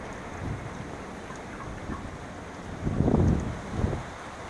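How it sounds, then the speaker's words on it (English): Super Typhoon Meranti's gusting winds rumble against the microphone, rising into one strong burst near the end and a smaller one after it, over a constant background roar. "The strong winds come and go in bursts. It's not sustained wind anymore, now it's gusting winds."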